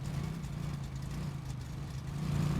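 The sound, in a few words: car traffic driving around in a video game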